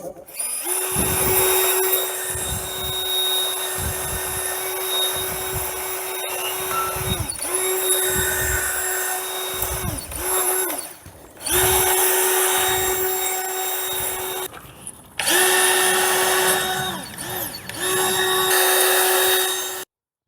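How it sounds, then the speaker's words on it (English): A wire brush scrubs the front brake parts of a Ford Transit, giving loud, close, harsh rasping in rhythmic bursts over a steady background hum, with a couple of short pauses between spells of scrubbing. "we'll just use the wire brush and quickly clean this up"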